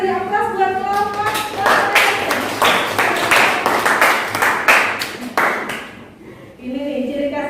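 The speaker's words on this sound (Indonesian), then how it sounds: "Saya beri aplaus buat kelompok" A classroom applauds a student group after their presentation, with a burst of clapping from several people lasting a few seconds. A voice speaks just before it and again as it fades.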